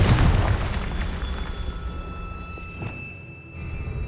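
A magical fire-blast spell cast in Hogwarts Legacy erupts as a loud booming burst at the start, then rumbles and decays into a lingering crackling tail with faint game ambience.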